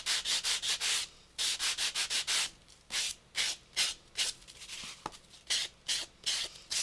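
A coarse sponge rubs back and forth across paper in quick rhythmic strokes, bursts of scratchy friction grouped in rapid runs with short pauses between them, close and alone.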